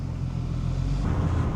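A VW Scirocco fitted with a swapped R32 engine and four-wheel drive drives past, its engine giving a steady, deep, throaty rumble close to the microphone.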